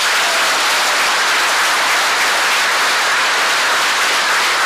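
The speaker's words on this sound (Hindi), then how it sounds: "खुलेआम से ताली बजाए" A group at a yoga session claps hands together, a dense, steady wash of clapping close by that fills the whole stretch without pause.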